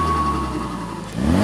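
A Mk3 Ford Focus RS engine fitted with a Mountune sound suppressor and an adjusted recirculation valve, heard close as a brief steady engine drone that rises into a rev at the end.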